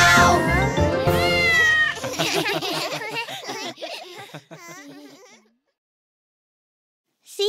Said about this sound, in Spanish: Es un gatito pelirrojo.